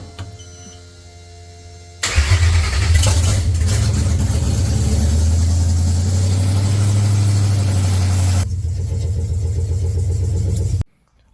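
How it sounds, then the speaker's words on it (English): Ford Coyote V8 swapped into an S197 Mustang cranks and fires for the first time with no intake or oxygen sensors fitted, settling into a loud, rough, steady idle with a deep rumble for several seconds before cutting off. "I'm getting ready to turn it over for the first time and see what happens"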